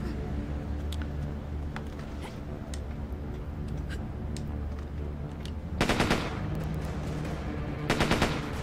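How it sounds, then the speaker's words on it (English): Machine gun fire from enemies in the video game Dex breaks out in two loud, rapid bursts over steady game background noise, with scattered single clicks and ticks between them. "these machine gun guys are rude"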